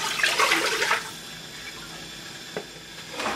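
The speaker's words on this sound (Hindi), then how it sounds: "आप एक लेंगे हांडी, जिसमें आपने ऐड करना है चिकन का स्टॉक" Chicken stock pours into a cooking pot, making a brief splashing, gurgling rush of liquid at the start, then quiet with a single small knock and a second short splash near the end, no voices.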